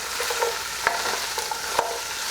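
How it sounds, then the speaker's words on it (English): A spoon stirs kale and hot pepper flakes through an Italian-style chicken soup in a pot, with soft scraping clinks over a steady low sizzle, close and fairly loud, with no talking. "I'm going to stir that around."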